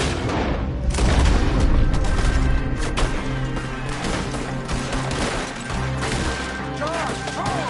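Enemy gunfire in Red Dead Redemption 2 during a shootout, overlapping shots and heavy booming impacts in a busy, loud mix, with shouted voices in the game over the firing.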